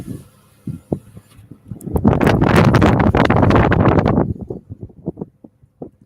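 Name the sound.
wind blowing into a car through the open window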